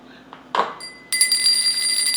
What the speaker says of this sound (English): you hear that? That's my little bell.